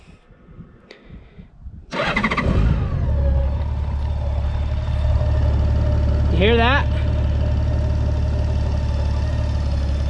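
A Honda Goldwing trike with an 1800 cc engine cranks over and catches with a loud burst, then settles into a steady, close, low idle that runs on alone; a voice speaks briefly over it.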